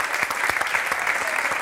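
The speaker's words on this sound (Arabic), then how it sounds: "مبروك عليك ماني تصفيقة كبيرة عليها" A studio audience applauds on a Tunisian television quiz show, a steady dense wash of clapping with a voice faintly audible beneath it.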